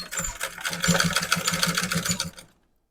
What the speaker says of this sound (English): Or I just put it under in my machine and just do a few stitches back and forth.